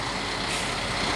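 Heavy trucks gathered at a roadblock on the route to Riobamba in Ambato during a national strike, a steady loud wash of engine rumble with air-brake hiss, no talk.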